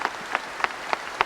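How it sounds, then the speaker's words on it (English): A large crowd applauding in tribute to Pope John Paul II, a steady wash of clapping with a few louder rhythmic peaks, heard alone without voices. "they clapped"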